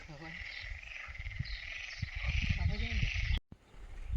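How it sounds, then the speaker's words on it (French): A steady chorus of croaking frogs fills the background in Morocco's Anti-Atlas while people talk nearby, cut briefly by a sudden dropout. "on entend le chant des grenouilles"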